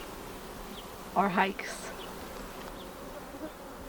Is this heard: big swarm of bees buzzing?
yes